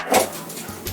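A dog in a recording room during a Spanish-language talk recording gives a short, fairly loud whimpering yelp, then a fainter second noise near the end, with no clear speech over it.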